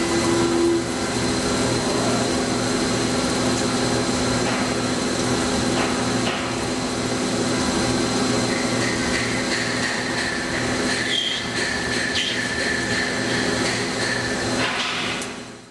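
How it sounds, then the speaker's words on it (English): A CNC lathe turns a miniature cup, giving a steady mechanical whir with constant tonal hums and faint higher cutting tones throughout, alone and evenly loud. "Take, for example, this miniature cup being turned on a CNC lathe."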